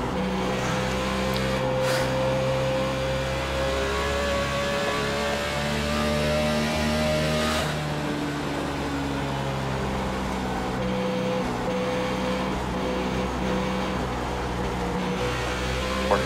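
A NASCAR stock car engine at Dover in iRacing roars close and loud in a continuous drone, its pitch sliding up and down as the car brakes and accelerates around the oval.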